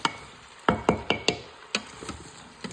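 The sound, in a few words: stirring potatoes for potato soup in an Instant Pot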